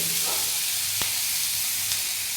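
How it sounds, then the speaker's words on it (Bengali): Onion and minced chicken fry in a pan with a continuous close sizzle and hiss, broken by two short utensil clinks. No voices. "পেঁয়াজটা একটু ভেজে আমি ওই চিকেন যেটা কুচি করে রেখেছি সেই চিকেনটা আমি এর মধ্যে দেবো"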